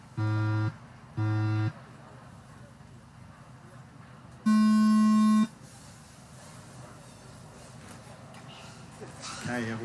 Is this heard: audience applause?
no